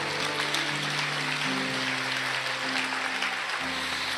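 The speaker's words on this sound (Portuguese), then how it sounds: "aplauda ao Senhor" A church congregation claps together in sustained, dense applause that stays level throughout, with a low held tone underneath.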